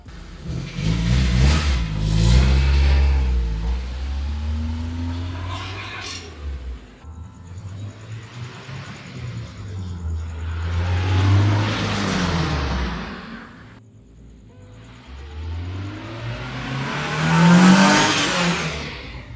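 A Porsche 911 with a swapped Honda K24 engine accelerating hard through several gears, each pull rising in pitch before a shift, heard from inside as the car drives.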